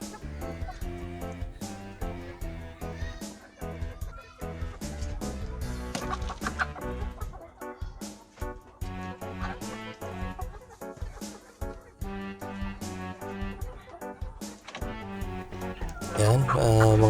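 Roosters and hens on a small farm cluck and call repeatedly, mixed in with steady talk and a dense, continuous background for the whole stretch, the loudest calls swelling near the end.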